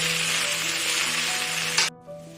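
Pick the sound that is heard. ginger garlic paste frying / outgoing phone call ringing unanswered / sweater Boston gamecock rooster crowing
ginger garlic paste frying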